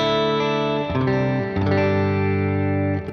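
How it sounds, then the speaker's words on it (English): Electric guitar through a hall reverb with modulation switched off, sustained distorted chords ringing into a long wash of reverb, loud and full, played alone. "let's choose a hall reverb, and let's turn off the modulation"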